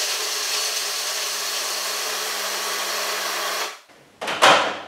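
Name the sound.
food processor grinding nuts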